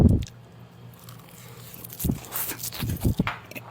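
Bites into a crunchy wrap made with nori seaweed land as a few sharp, close crunches clustered toward the end, following a quieter, softer start.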